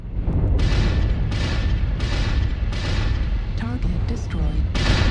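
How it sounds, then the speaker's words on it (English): Autocannons firing in MechWarrior Online in loud, repeated heavy bursts that pound in a steady rhythm, one after another, over dense battle rumble; a voice is heard briefly between shots. "lay off the lasers and fire just the autocannons"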